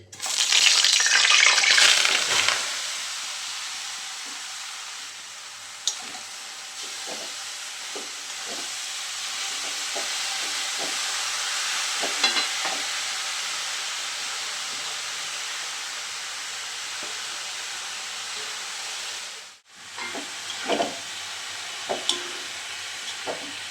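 Grated carrots for carrot halwa sizzle in a hot pan, a loud, steady frying hiss that starts with a bright burst, then the scrape and clack of stirring, a brief pause and more stirring.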